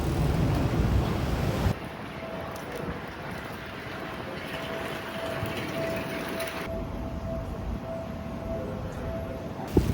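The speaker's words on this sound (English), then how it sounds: "it was about this time that the wind started really picking up" Strong wind gusting on a Tokyo street during outdoor painting, a constant loud rush buffeting the microphone with a steady background hum.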